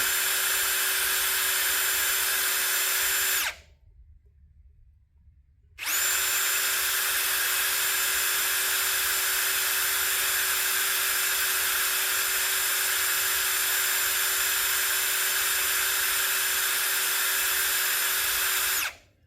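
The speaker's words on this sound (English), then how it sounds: "with magnesium, it's super soft. You better drill slow." A steady, high-pitched power drill whines continuously drilling slowly into a VW Type 1 magnesium engine case, pauses for a couple of seconds, then runs again at an even pitch until near the end.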